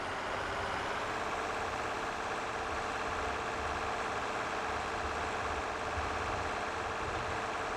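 Steady diesel drone of a farm tractor engine running while mixing a TMR feed of standard mix with maize, a constant mid-low rumble held at even loudness throughout, near and alone with no voices.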